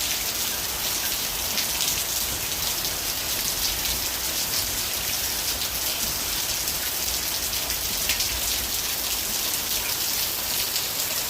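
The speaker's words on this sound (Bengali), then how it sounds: "বৃষ্টি একভাবে বৃষ্টি হয়েই যাচ্ছে।" Steady monsoon rain pours down over a waterlogged yard, a dense, even hiss of drops on wet surfaces that holds at the same loudness throughout with no pauses.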